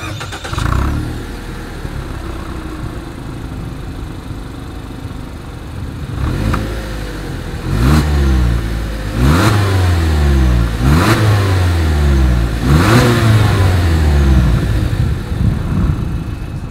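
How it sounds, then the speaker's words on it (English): A 2020 Toyota Yaris engine idles, then revs hard several times through the exhaust, each rev rising and falling in loud, close bursts. "As always, here is that exhaust clip."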